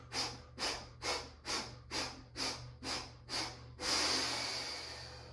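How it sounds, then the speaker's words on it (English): Kapalabhati yoga breathing: eight sharp, rhythmic nasal exhales about half a second apart, close and clear, then a longer sustained breath that slowly fades. "I can feel it in my spine as I do my Kapalabhati. Exhale, exhale, exhale"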